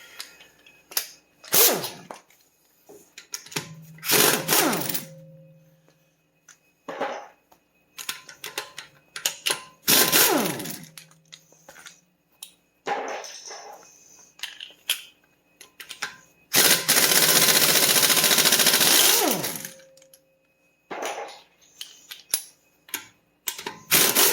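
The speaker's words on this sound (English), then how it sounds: "I'm going to blast these off with the air wrench." An air wrench blasts brake hardware loose on a Volkswagen MK7 Alltrack during a rotor and pad job, with loud intermittent rattling bursts, one long sustained hammering run, and clanks of parts between them.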